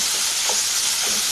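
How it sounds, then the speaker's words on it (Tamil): Mushroom masala fries in a pan, giving a steady, close hiss of sizzling with faint bubbling underneath and no talking. "நல்லா ஃப்ரை பண்ணிடலாம்."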